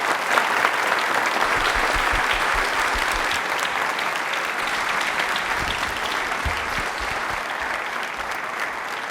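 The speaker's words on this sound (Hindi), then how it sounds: "तो तालियां एक बार जोर से बजा दीजिए।" A studio audience at an Independence Day quiz show applauds a winning contestant, a dense, steady burst of clapping that carries on evenly for several seconds without letting up.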